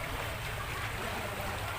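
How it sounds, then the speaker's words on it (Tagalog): Strong floodwater after a typhoon rushes in a continuous, dense roar, loud and close throughout with no pauses. "malakas pa rin yung tubig"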